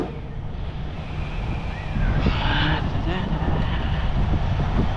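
Steady wind roars across an outdoor microphone at a trucking yard, a broad rushing noise that grows louder midway, with faint voices underneath.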